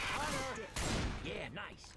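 Shotgun blasts in the zombie shooter Left 4 Dead 2, Dark Carnival Remix campaign, sharp booming shots ringing out close and loud, with a voice talking over them.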